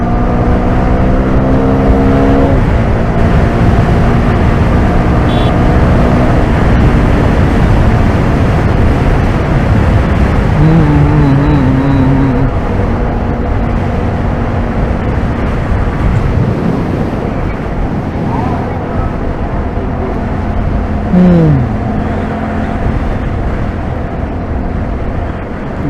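Loud, steady rumble of passing road traffic with engine drone and wind buffeting, punctuated by a distant horn or siren-like whine.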